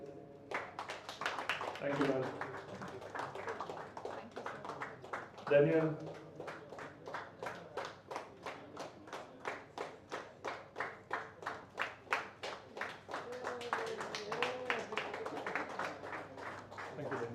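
An audience claps steadily throughout a throwball league auction, the applause thinning into a regular rhythmic beat mid-way, while a host speaks briefly over it at the start and end.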